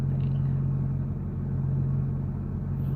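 A truck engine rumbles low and steady while driving, a constant close hum with no pauses or talk.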